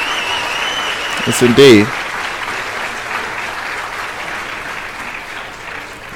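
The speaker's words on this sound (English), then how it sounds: "Let me give him a round of applause." A loud, sustained burst of audience applause plays during a stock-investing talk show, with a short spoken phrase briefly layered over the clapping near the start.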